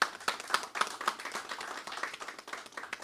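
A small group claps at a government contract signing ceremony, irregular and fairly close, with the clapping trailing off near the end.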